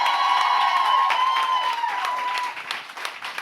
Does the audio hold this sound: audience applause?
yes